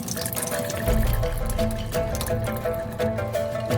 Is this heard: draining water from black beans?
yes